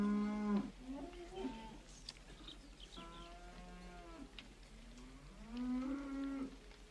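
Cattle in a green, grassy pasture give long, drawn-out moos, several overlapping calls in succession, fairly close and clear over a low background hum.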